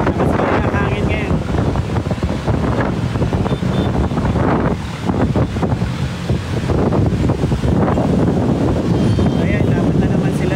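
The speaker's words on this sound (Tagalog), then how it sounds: "Lakas ng hangin ngayon." Strong gusting wind batters the microphone along a busy Quezon City road at Monday rush hour, a loud continuous roar and rumble that barely lets up for the whole stretch.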